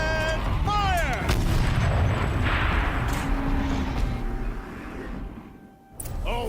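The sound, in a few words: turret firing in video game Horizon Zero Dawn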